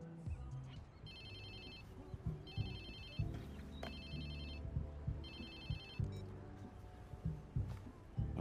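A cell phone rings in the video game Watch Dogs 2, three repeated trilling bursts over a rumbling game soundscape with thuds and brief voices.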